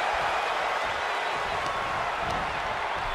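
Crowd noise from a WWE 2K23 video game women's singles wrestling match, a loud, steady roar of cheering and applause filling the arena throughout.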